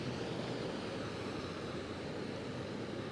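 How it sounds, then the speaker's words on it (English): An Asheville fire rescue truck forces its way through a flooded road during Hurricane Helene, a steady, loud broadband rush of churning water and engine noise with no distinct pauses. "You can just hear how hard that fire truck just had to drive through that road just to get through it."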